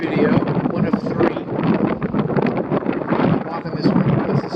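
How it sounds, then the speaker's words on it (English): Strong gusting wind buffets across a steep residential roof, a dense continuous roar with rising and falling gusts, loud and close to the microphone. "It's too windy."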